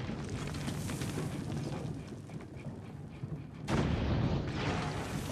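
Cannon fire in Assassin's Creed Brotherhood, a dense rumbling barrage with a heavy boom near the end, loud and continuous throughout with no voices.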